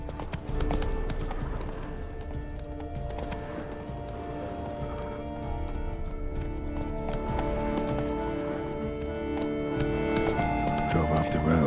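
Horse hooves clip-clop in The Witcher 3, a steady rhythmic trot heard alongside game music, with voices talking in the middle of it.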